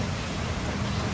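A brief, steady burst of rain falls in a dense, even hiss with no pauses.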